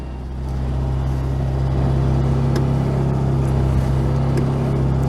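A classic Mini Clubman engine idling and running roughly, a steady close low rumble and drone throughout with no speech over it.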